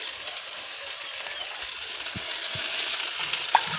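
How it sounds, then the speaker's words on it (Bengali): Green chilies frying with tomato in a pan for a Bengali dish, just before ginger-garlic paste goes in: a steady close sizzle with a few soft knocks and scrapes of stirring, no talking. "কাঁচা লঙ্কা চিড়ে দিলাম, আর এটা কষছি।"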